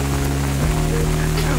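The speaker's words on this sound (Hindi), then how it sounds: "गाइस पूरे बारिश में भीगते हुए मोबाइल भी भीग रहा है" Steady monsoon rain in Matheran pattering close by, a dense constant hiss with a low rumble underneath, loud throughout with no talking.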